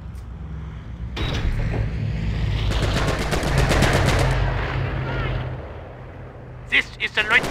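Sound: machine gun firing in the video game Company of Heroes

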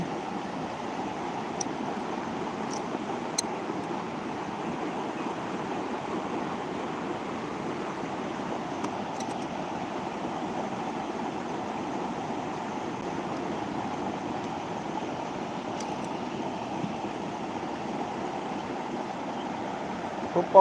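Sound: water waves

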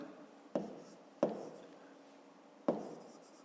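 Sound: writing numbers by hand

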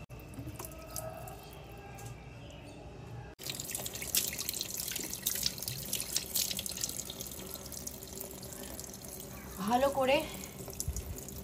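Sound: water rinsing face after face pack

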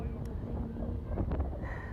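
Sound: wind blowing on microphone at a beach

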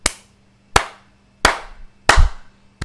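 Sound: loud hand clap

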